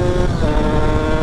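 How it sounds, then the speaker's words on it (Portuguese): A Yamaha DTR 125 motorcycle's exhaust while riding, a steady, loud low-pitched engine drone with a rough buzzing texture, continuous and close, with no voices over it. "o barulho deste escape é outra cena"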